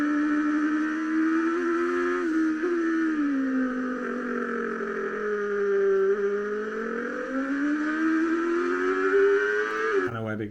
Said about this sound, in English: this is the acceleration out of 5 over the hill to 6